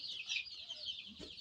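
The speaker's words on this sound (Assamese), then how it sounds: "বন্ধুসকল অৰিজিনেল লোকেল মুৰ্গীৰ পোৱালি হয়" Local chicks on a poultry farm cheep in soft, steady high chirps, with a brief louder burst near the end; no one talks.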